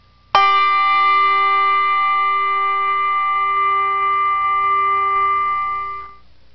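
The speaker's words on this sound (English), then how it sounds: "The hard setting uses a solid plastic surface, producing a brilliant," A single Malmark handbell is struck once with a hard solid plastic clapper, giving a bright, crisp attack and a clear ringing tone that sustains evenly for about six seconds before fading, heard alone.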